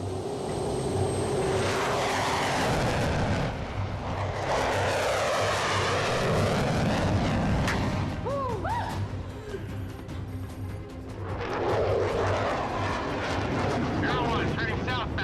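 A military aircraft engine roars at forward throttle, loud and sustained with swelling and fading surges, alongside faint radio-style chatter.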